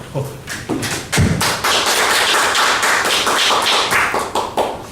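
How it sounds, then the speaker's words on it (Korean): Audience claps at a church-hosted monthly forum, a scattered burst of taps and thuds building into steady close applause for a few seconds. "우리 박수로"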